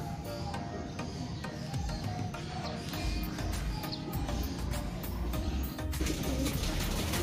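Pigeons in a rooftop loft coo steadily at close range, with occasional wing flaps and light clatter as birds take off and land around the enclosure.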